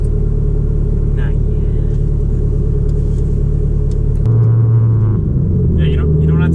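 Low engine rumble from a 500-horsepower big-turbo Audi TTS driving gently, a steady drone that swells louder partway through, with people talking inside the car over it.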